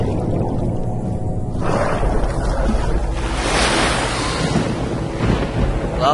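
A heavy ocean wave in a video game washes and roars loudly, building into a broad surging rush that fills the scene before slowly fading, with no voices.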